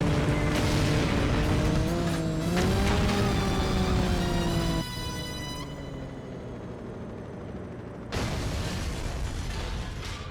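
Engine whine rises and falls through a driving level in 007: Agent Under Fire, with bright squealing tones, a sharp pop, and a burst of noisy rumble as the car speeds along; no voices.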